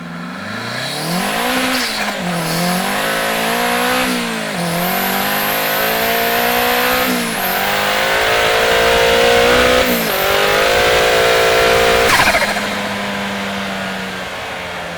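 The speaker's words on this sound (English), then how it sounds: "listen to this clip of the final pull with enhanced engine bay audio" A 500 hp Mazda Miata engine roars through a hard full-power pull, revving up in rising sweeps with brief dips at gear shifts, loud and close from the engine bay, ending as the revs fall back.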